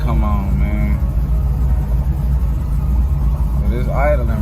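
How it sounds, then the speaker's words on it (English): A Chevy Caprice with a supercharged LSA V8 idles after getting new injectors. The engine gives a steady, loud, slightly uneven low rumble throughout, and brief voice sounds rise over it at the start and near the end. "But it's idling right now. It sounds a little bit, sound like it's a little bit more choppier now with them new injectors in there"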